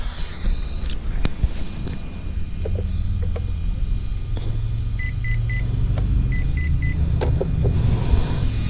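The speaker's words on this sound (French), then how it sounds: "il m'a fait 3 bips pour le frein" Two quick sets of three short electronic beeps from a Bison V2 electronic speed controller sound close by, setting the brake, over a low rumbling engine-like background with occasional clicks and handling noises.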